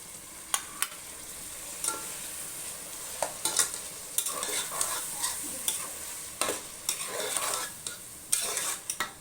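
Tomatoes cooking with masala in a pan for coconut-milk, cashew chicken biryani, a faint continuous sizzle broken by repeated scraping and tapping of a spoon against the pan, close, with no talking.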